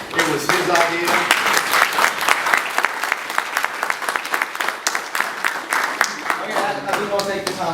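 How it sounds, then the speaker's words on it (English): A room of guests at a celebration gathering breaks into loud, sustained applause, many hands clapping close by in a thick, continuous patter that lasts the whole stretch. "I'd like everybody to give a round of applause for David for planning this."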